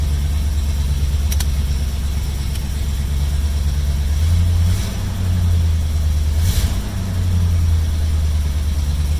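A 1972 Mercury Comet engine idles steadily and loudly up close, its low rumble slightly uneven and choppy at a raised idle, with brief surges midway.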